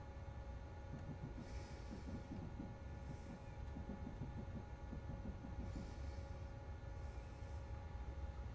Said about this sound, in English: What's this? Another train.